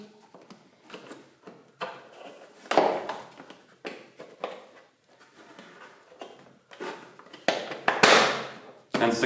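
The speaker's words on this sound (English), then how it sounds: "So you need to insert the fuse. It will spark, so don't worry, it's normal." A fuse is pushed into the fuse box of a Panther 1000W 36V electric mini dirt bike, giving a series of close crackling sparks and sharp clicks that come in irregular bursts, with the loudest pops near the end.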